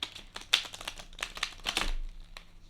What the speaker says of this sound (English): I'm gonna shuffle them briefly here.